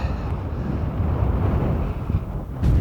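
Strong wind buffets the microphone in a continuous low rumble, with gusts rising and falling throughout, on an exposed high point of the England Coast Path between Grain and High Halstow.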